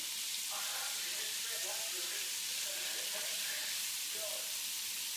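Thai food stir-fried in a pan with soy sauce, giving a steady hissing sizzle that runs throughout, with scraping stir sounds and faint voices in the background.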